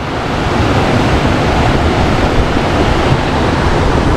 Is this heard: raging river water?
yes